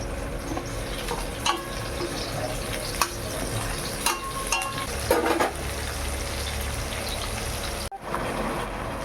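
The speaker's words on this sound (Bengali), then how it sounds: "এরপর তেজপাতা, গরম মশলা একটু ভেজে নিয়ে পেঁয়াজগুলো ভালো করে ভেজে নেব।" Sliced onions with bay leaf and garam masala sizzle steadily in hot oil in a kadai, a constant close frying hiss broken by a few stirring scrapes and knocks.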